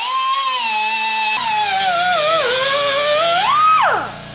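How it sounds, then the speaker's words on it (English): A hand drill fitted with a coarse grinding wheel bit grinds metal on a 2000 Honda Odyssey oil pan drain plug, a loud close whining tone whose pitch dips and wavers under load, then rises before spinning down. "I do have a drill and this little bit that's been floating around in my toolbox forever. It's just kind of a coarse grinding wheel"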